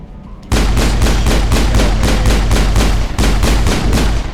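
A Geth enemy in Mass Effect fires a loud automatic weapon that starts abruptly and pounds out an even, rapid stream of close shots, with a brief break before the burst resumes.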